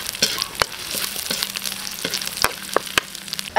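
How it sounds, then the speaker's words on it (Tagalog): Chopped onions sautéing in sweet oil for a Filipino longganisa dinuguan, with a steady close sizzle broken by sharp stirring clicks and scrapes of a utensil against the pan. "Gisa lang sa sweetie oil. Isunod na natin yung sibuyas."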